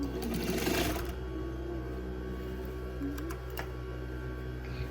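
Sewing machine stitching fabric at a steady hum close by, with a faint rhythmic whirring and clicking running throughout and no talk over it.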